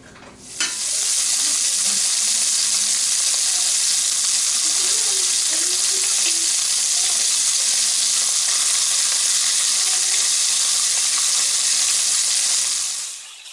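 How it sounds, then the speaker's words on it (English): Bacon fries in a pan over high heat, a loud, bright, unbroken sizzle and crackle that starts abruptly and holds steady throughout, close up and without talk. "So we're just gonna cook up this bacon on fairly high heat until I get nice browning in my pan"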